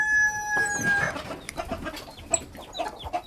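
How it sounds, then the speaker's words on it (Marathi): A rooster crows loudly at the start, followed by scattered hen clucks and squawks nearby. "आता इथून चालल्यात कोंबड्या बाहेर. त्यांची गडबड जास्त व्हायला लागली"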